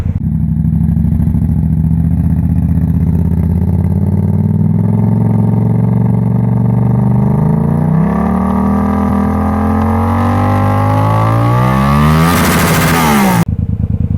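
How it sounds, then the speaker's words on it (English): A loud motor exhaust revs on the Gold Coast, the engine note droning steadily then climbing sharply in pitch as the throttle opens, close and dominant throughout before cutting off abruptly. "This exhaust is pretty loud."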